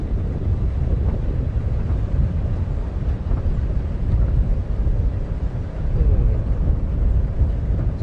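Wind gusts buffet the microphone during an evening safari drive at Djuma and Arathusa, producing a constant low rumbling roar that swells slightly toward the end.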